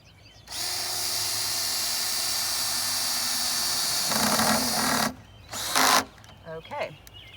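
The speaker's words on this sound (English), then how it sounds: "now I'm going to put the screw in" A power screwdriver whirs steadily for several seconds as it drives a screw into a raised garden bed frame, then a few short bursts finish it off.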